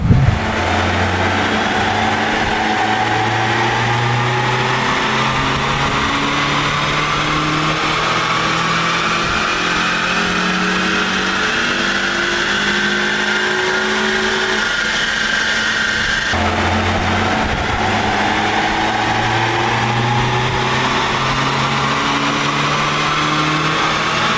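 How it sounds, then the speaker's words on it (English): A twenty-year-old car runs up on a dynamometer, its engine revving in long rising pulls that climb in pitch, drop back and climb again, loud and continuous with no talking. "let's get it on the dyno and see how much power this car has lost over 20 years"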